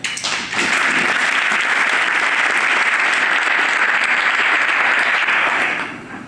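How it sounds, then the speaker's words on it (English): Audience applause at a city's state of the city address, a dense wash of clapping that swells in quickly, holds steady and loud for several seconds, then tapers off at the end. "All right, you can stop clapping now."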